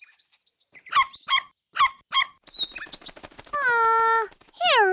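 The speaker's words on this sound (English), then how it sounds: "I really like the sparrow song, Leo." Cartoon-style sparrow song rings out as a quick series of bright chirps and short trills, then longer sweeping whistled notes, loud and close with no speech.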